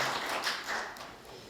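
Audience applause at an award ceremony for a national unification culture festival, a brief steady patter of many hands clapping at moderate distance, fading slightly toward the end.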